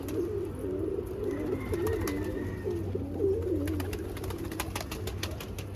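Pet pigeons or doves coo in repeated soft, rolling phrases close by, with faint clicks and rustling around them and steady low background hum.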